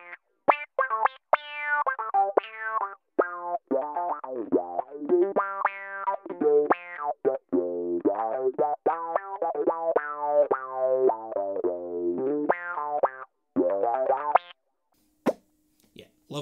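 Guitar run through a Gojira Octave Up pedal paired with a synth wah, giving a string of bright, harmonically rich, filtered notes with bouncy wah sweeps, played continuously and loud for most of the passage before a brief pause and a few last stray hits.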